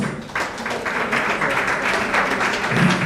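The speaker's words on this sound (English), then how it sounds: "please let's sustain the applause" A conference audience applauds at a talk on human-centered AI and gender equity, a dense, steady wash of clapping from many hands that holds for a few seconds without letting up.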